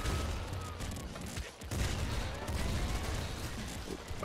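An auto heavy grenade launcher fires repeatedly in Nuclear Throne Ultra Mod, a dense run of booming bursts with a brief pause partway through, loud and continuous.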